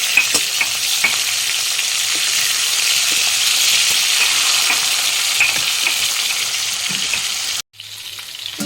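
Fish sizzles steadily in hot oil in a frying pan, a loud continuous crackle with faint stirring ticks, cutting off near the end.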